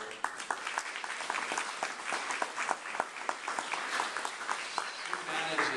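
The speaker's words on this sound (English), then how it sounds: "Sarah, give her a round of applause." A crowd applauding steadily, dense clapping filling the room throughout, with some voices mixed in.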